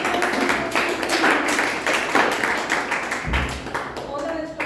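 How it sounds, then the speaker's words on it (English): Audience applause at a Toastmasters club meeting, a steady patter of many hands clapping through the whole stretch, with a voice starting to speak near the end. "Big round of applause."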